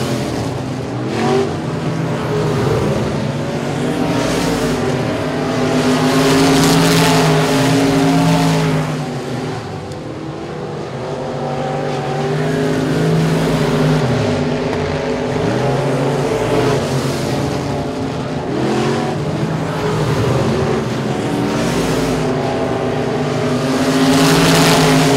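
Race cars circling at Sabine Speedway, with several engines roaring loudly and continuously, their pitch rising and falling as cars pass and a near engine swelling over the distant pack.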